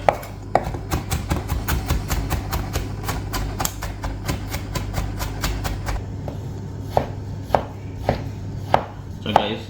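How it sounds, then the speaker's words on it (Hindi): Knife chopping ginger and garlic finely on a board, a fast run of sharp, evenly spaced close taps that later slows to sparser, distinct strikes, with a steady low hum underneath. "तो बारीक बारीक चॉप कर लें। जिंजर और गार्लिक को मैं मिक्स कर लूँगा।"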